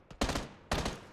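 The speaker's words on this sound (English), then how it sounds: "Oh, there's some shots to the right." Gunfire in the battle royale game PUBG: two loud, close bursts of rapid shots about half a second apart, crisp and sharp with a brief decay, no voices.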